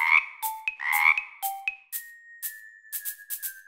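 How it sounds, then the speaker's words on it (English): Cartoon frog croaks from a children's animal song: a few bright, clipped ribbit calls with ringing tones, then a long sustained chime-like note with light taps over it, all close and clear. "Frog, frog. Ribbit, ribbit."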